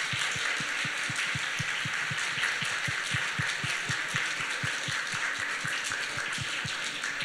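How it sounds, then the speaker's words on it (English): Audience applause at the close of a community event, a steady, dense crowd clapping that fills the whole stretch evenly with no break and no talk over it. "Can we give them a round of applause again?"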